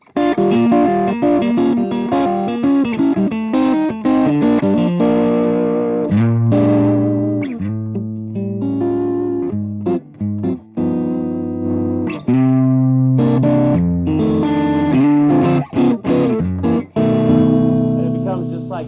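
Electric guitar through a BluGuitar Amp1 with its Nanotube front end, playing crunchy, pushed chords and riffs with short pauses, loud and close throughout.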